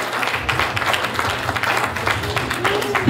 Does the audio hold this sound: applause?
yes